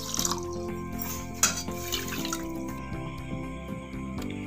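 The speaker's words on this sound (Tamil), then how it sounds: "இப்போ 1/2 கிளாஸ் தண்ணி ஊற்றிக்கலாம்." Water poured from a glass onto sugar in a pan to make syrup for rava gulab jamun, a close trickling splash with a few drips and clinks.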